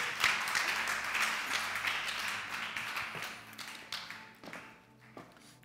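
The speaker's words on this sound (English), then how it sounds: "Let's give them a round of applause." A church audience gives a round of applause, a fairly soft burst of many hands clapping that thins out into scattered individual claps as it fades.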